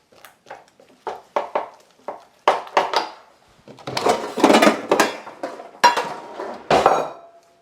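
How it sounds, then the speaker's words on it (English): Spatula folding egg yolks into scrambled eggs in a pan off the heat, a series of sharp scrapes and clinks against the pan, sparse at first then denser and louder, close by. "And then just kind of fold that all in"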